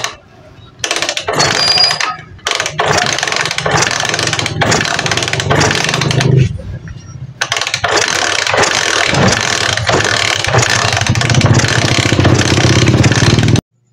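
A Euro 150 motorcycle with a misfiring, hard-starting engine is kicked over repeatedly, giving loud mechanical clattering and sputtering bursts broken by short pauses.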